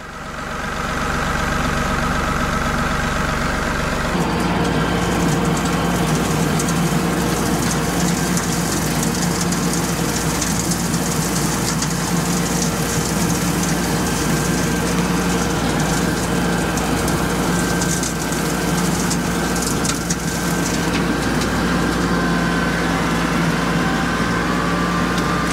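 An LS tractor engine runs loud and close under load while driving an old bush hog mower across a pond dam, a steady droning roar that shifts pitch after a few seconds and holds continuously.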